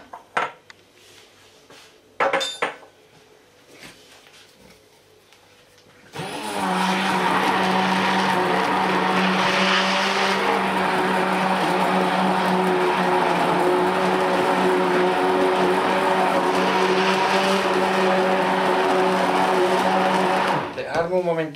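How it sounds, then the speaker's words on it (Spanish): Clinks and knocks of utensils come first, then a hand blender starts up, whirring steadily and loudly for about fifteen seconds as it mixes cream cheese and condensed milk before cutting off. "integrarlo todo con la batidora."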